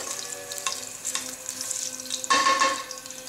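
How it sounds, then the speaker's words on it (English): Crushed garlic hits hot oil in a pan and sizzles quietly, with a sharp burst of frying and clattering of stirring near the end. "Let's add the garlic."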